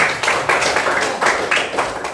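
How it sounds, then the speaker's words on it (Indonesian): A class of schoolchildren clapping together for a classmate, a patterned group clap in steady repeated bursts, loud and near, with no talk over it. "Tepuk tangan"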